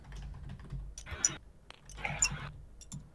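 Two quick bursts of clicky computer keyboard typing, close by, separated by a short pause, over a faint low background hum.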